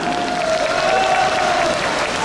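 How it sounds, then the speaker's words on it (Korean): Steady applause from the audience at a hope concert in Yeongwol backing the Pyeongchang Winter Olympics, greeting a guest MC as he is brought to the stage; dense, continuous clapping with a faint sustained tone running through it. "박수 부탁드립니다."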